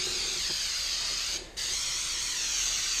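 A close, loud, continuous hiss of liquid being sprayed onto vinyl vehicle graphics, broken once by a brief pause before the spraying resumes.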